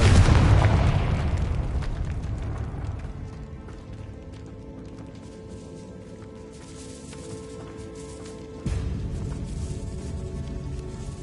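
Confringo blasting-curse explosion in Hogwarts Legacy: a heavy boom at the start that decays into a long, low rumble, followed by a second thudding impact near the end.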